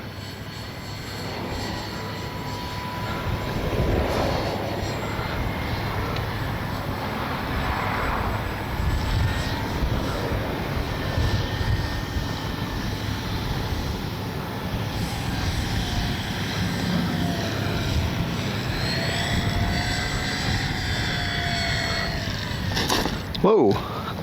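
A Dynam ME BF-109 RC warbird model airplane flies on a gusty, crosswind day, its electric motor droning steadily at a distance with rising and falling pitch as it passes, with voices talking intermittently over it.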